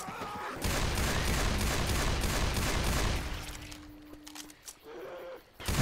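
Sustained automatic gunfire in Left 4 Dead 2, a loud continuous stream of shots lasting several seconds, then tapering into scattered sounds and quieter game noise.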